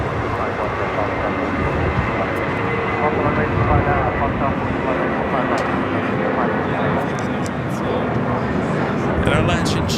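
A Boeing 777 freighter on a cargo flight bound for Guangzhou gives a steady, loud, broadband jet roar that holds for the whole stretch, with no letup.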